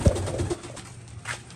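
Wild pigeons coo softly nearby, with a low throaty call at the start and quieter murmuring coos and faint rustling after it, with no talking.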